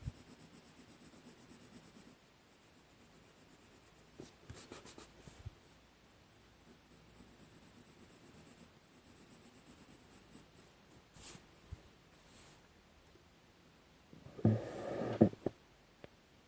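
Irojiten colored pencils shading on paper in a national parks colouring book, a faint, close scratchy rubbing that comes and goes in short strokes, with a louder burst of scribbling near the end.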